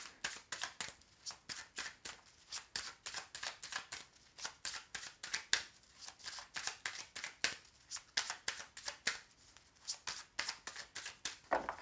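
A deck of cards being shuffled for a 13-card reading, with rapid riffling bursts repeating in a steady rhythm throughout. The sound is close and fairly quiet, with no talking.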